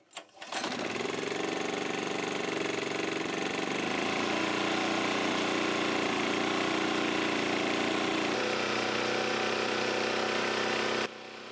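A portable generator set's engine runs steadily and loudly with no load attached, a constant buzzing drone after a brief start that continues with a slight shift in tone.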